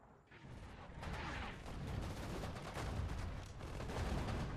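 A destroyer firing its guns in Sudden Strike 4, a dense rolling barrage of booming shots and mechanical clatter that swells after a quiet start and stays loud and continuous, several blasts overlapping.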